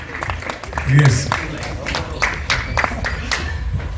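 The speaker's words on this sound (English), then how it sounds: "clap please, clap" Sparse, uneven clapping from an audience at a film trailer launch event, with people talking over it and the claps standing out as separate sharp hits.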